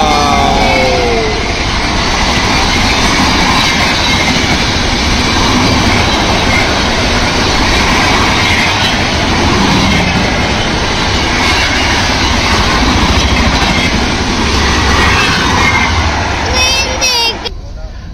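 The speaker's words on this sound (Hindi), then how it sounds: "And here comes the super fast train of India." A superfast Indian train rolls into a railway station, producing a loud, continuous rumble and rhythmic clatter of wheels that fills the scene for nearly twenty seconds before easing slightly at the end.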